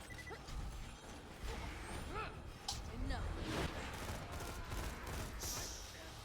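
Seraphim weapon firing in a video game, a fairly quiet stream of rapid shots and metallic impacts that swells in the middle, with a voice talking lightly underneath.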